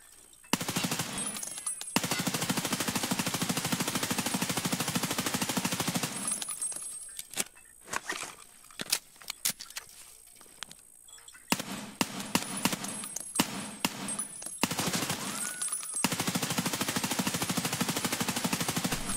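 In an Escape from Tarkov–style shooter, an M4 rifle fires loud, rapid automatic bursts up close. Long sustained strings of shots alternate with short broken bursts and brief pauses.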